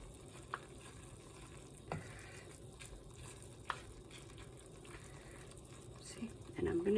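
Half-cooked beans tossed and frying in a pan for a beans-and-chilies dish, a faint steady sizzle broken by a few sharp scrapes, with a louder stir and clatter toward the end.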